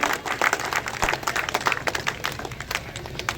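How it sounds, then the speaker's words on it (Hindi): An audience at a sports closing ceremony in Danchauli applauds: dense, steady clapping from many hands, close and continuous, with no talking. "और मुझे लगता है कि आपकी तालियां कमजोर हैं इनके सम्मान में।"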